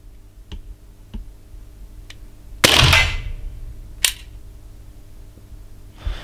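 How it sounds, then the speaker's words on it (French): An air pistol fires a single diabolo pellet on an adjustment shot, a sharp, close crack followed by a brief mechanical ring. Faint ticks come before it and a smaller click follows a second later. "Je vais effectuer le tir de réglage et au passage, je vais prendre des prises de vitesse."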